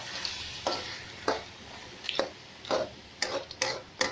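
Mixed seafood with ginger, onion and garlic cooks in a pan, with a soft continuous sizzle broken by repeated scraping and stirring strokes at a steady, irregular rhythm.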